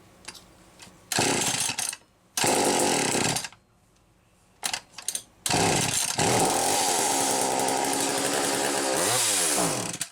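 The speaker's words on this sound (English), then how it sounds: "So let's fire it up. You guys hear it run" McCulloch Power 320 chainsaw starting and running: loud bursts of two-stroke engine noise broken by short pauses, then a sustained high rev that wavers near the end.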